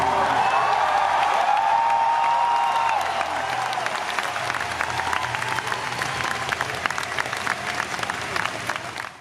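A large convention crowd at Star Wars Celebration Orlando 2017 applauds and cheers after The Last Jedi teaser, dense sustained clapping with scattered whoops, loud and continuous throughout, fading slightly toward the end.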